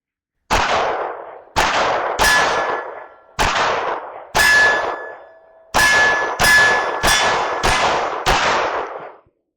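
Ten 9mm pistol shots ring out one after another at an outdoor range, each sharp crack followed by the bright metallic clang of a steel target, loud and close, in an uneven rhythm with brief pauses between groups.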